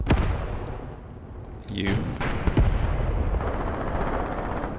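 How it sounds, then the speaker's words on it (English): Mortar shells thud and burst in a Graviteam Tactics WWII tank battle, a dull rumbling barrage with a sharp blast near the middle, heard beneath a man's ongoing speech over a steady roar of battle noise. "my mortars are now really hitting hard"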